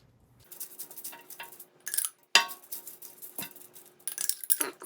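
Aluminum foil crinkled and handled for wrapping a smoked brisket, a series of close, sharp rustles and crackles in short bursts with quiet gaps.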